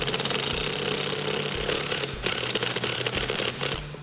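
A 17mm socket on a ratchet tightens nuts on a MotoFab 2-inch front leveling kit for a 2007-2018 Silverado or Sierra, with steady rapid ratcheting clicks and a power-tool-like rattle throughout, no talk.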